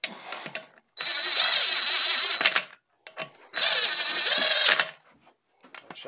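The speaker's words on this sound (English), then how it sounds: "I'm winding them in with the impact gun." Bolts on a Vauxhall F17 gearbox are wound in with an impact gun in two sustained whirring, rattling bursts of a couple of seconds each, close and loud, separated by short clicks and handling noises.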